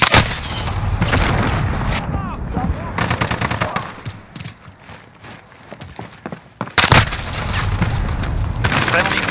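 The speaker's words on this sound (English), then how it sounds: "Grenade out!" Video game firefight with rapid automatic gunfire and sharp bursts, plus a grenade blast landing partway through; the shooting fades briefly, then a loud burst returns and heavy fire continues, with shouted voices mixed in.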